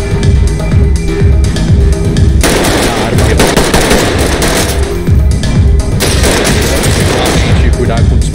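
Loud, rapid automatic gunfire in the tactical shooter game Ready or Not, sustained bursts with a brief pause before resuming, heavy and close, with shouted voices mixed underneath.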